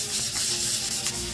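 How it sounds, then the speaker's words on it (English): Close, light rasping strokes of 320 grit sandpaper on an epoxy carbon fibre bike chainstay repair, a soft scratchy rubbing that repeats quickly. "Been sanding for about, that's not that much actually, about 20 minutes only. I'm now on the 320 grit."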